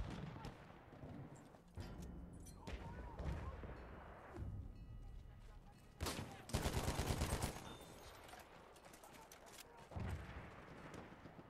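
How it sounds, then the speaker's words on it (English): Battlefield 1 combat with machine gun fire: bursts of rapid shots and heavier blasts come and go against a busy battlefield din, with shouted voices among them. "Machine gun over there!"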